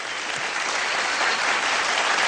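An awards-show audience gives steady, dense applause in tribute to Jagjit Singh, a loud continuous wash of many hands clapping throughout, with no talk over it.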